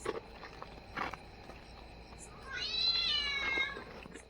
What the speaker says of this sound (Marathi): पण मांजरीचा आवाज येतोय बघा